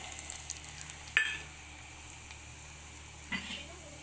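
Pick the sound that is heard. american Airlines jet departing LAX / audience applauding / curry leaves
curry leaves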